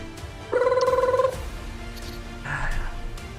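A telephone gives a brief trilling, warbling ring lasting under a second amid a tabletop game session, followed by people talking over a soft background hum.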